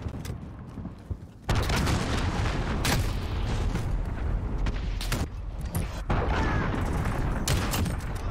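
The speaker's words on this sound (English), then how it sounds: "Allied cruise missile away." An allied cruise missile strike slams into a Call of Duty match with a sudden loud, sustained roar of explosions and gunfire that stays heavy and dense to the end.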